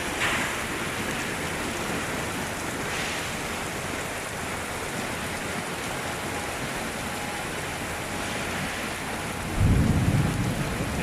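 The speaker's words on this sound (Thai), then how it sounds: "ฝนตกทั้งฟ้าร้องวันนี้โอ้ง" Heavy rain pours steadily during a thunderstorm, with a deep rumble of thunder swelling loud near the end over the constant downpour.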